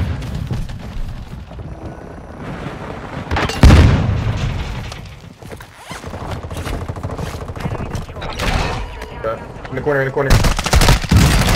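Dense video-game gunfire in a squad battle-royale match, loud bursts, booms and rapid fusillades rolling almost nonstop, with players calling out under the shooting.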